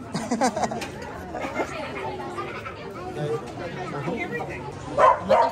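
Dogs yip and bark in short bursts at a park outing in Saskatchewan, under near, continuous talk from people nearby, with a louder cluster of barks toward the end.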